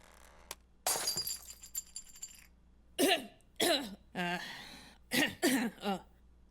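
A character in the video game Antonblast coughs in several harsh bursts, after a crash like breaking glass at the start.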